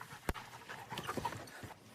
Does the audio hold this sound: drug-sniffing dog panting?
yes